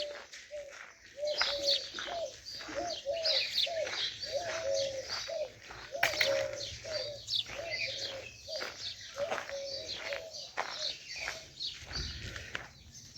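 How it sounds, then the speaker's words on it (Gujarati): Doves coo in a steady repeating rhythm while smaller birds chirp busily over them, a lively chorus with no voices. "પક્ષીઓનો મધુર કલરવ"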